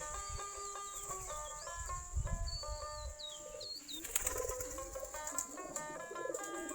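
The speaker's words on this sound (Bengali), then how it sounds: "আমাদের কবুতরগুলা" Native domestic pigeons calling in a loft or coop, soft cooing and bird calls with occasional wing flapping, fairly close against steady background noise.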